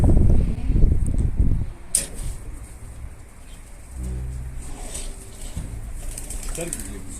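Pigeons flutter and coo close by, with wing flaps and a sharp clatter amid background noise and people talking.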